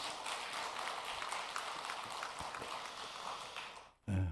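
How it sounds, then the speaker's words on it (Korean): A church congregation at a Sunday afternoon worship service in Mokpo applauds the choir with steady, fairly distant clapping that fades out near the end, followed by a brief low thud. "우리 찬양대 한번 축복하는 박수 한번 해주면 좋겠습니다"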